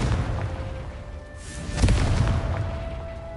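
Confringo fire spell in Hogwarts Legacy, a single booming explosion midway through, with a burst of crackle against a steady game background.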